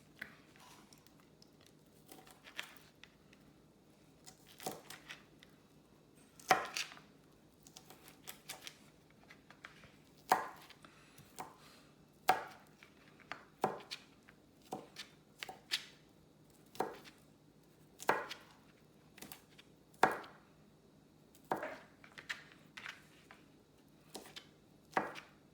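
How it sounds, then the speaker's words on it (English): Knife finely mincing garlic cloves on a cutting board, a string of sharp, distinct chops at an irregular pace, sometimes in quick bursts, close and clear against a quiet room with no talking. "We want to mince these garlic cloves, so we cut them real fine."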